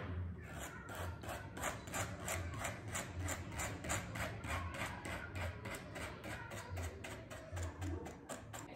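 Rhythmic back-and-forth sanding strokes rasp along a paper edge glued onto wood, about two strokes per second, close and steady with no talking.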